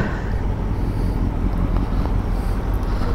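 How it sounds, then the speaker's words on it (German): A motorcycle engine idles steadily after the starter is pressed, a continuous low rumble with some wind noise, on a group ride toward Ramsbeck in the Sauerland. "Aber Motorsound ein bisschen."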